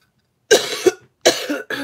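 Three harsh coughs in quick succession, close and loud, with short pauses between them.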